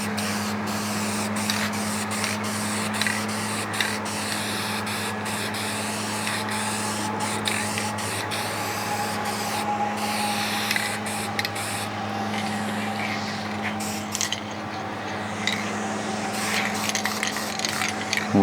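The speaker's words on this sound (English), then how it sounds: "just give this a hose down" A water hose sprays steadily over the frame of a 1976 Jeep CJ-5 during restoration, a continuous close hiss running throughout with small irregular spatters and bursts as the stream shifts.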